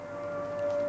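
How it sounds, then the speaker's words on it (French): Civil defense alert siren wailing over central Harrisburg, a single sustained steady tone that swells slightly louder by the end, with no voices. "les sirènes d'alerte se mettent à retentir en plein centre de Harrisburg"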